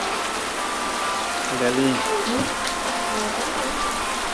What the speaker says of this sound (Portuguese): vamos assistir aqui a chuva